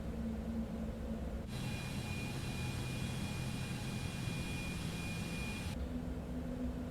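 Citation X business jet idling and rolling on a runway in a flight simulator game, a steady engine whine and rumble that swells in and holds for several seconds before dropping back to a quieter hum.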